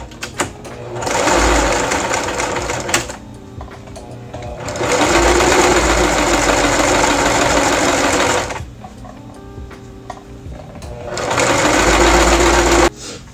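A sewing machine straight-stitches satin lining onto a knit beanie in three loud sustained runs of rapid whirring, each several seconds long, separated by short quieter pauses.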